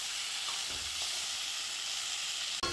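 Bay leaf, cumin and crushed garlic sizzling in hot oil for a tempering, a steady close hiss and crackle that holds evenly, ending with a brief clatter.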